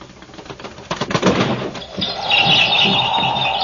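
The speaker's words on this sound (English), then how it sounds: "There's some bird out there trying to get in." A bird at a window trying to get in flutters and taps close by, with scratchy rustling bursts, then a steady higher chirping or squealing tone carries on to the end.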